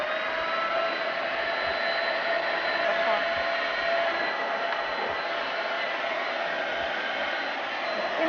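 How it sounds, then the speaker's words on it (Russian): A paint spray gun hisses in a continuous, loud, steady blast while spraying velour coating onto a double chocolate sponge cake, with no breaks across the whole stretch. "мы включаем краскопульт"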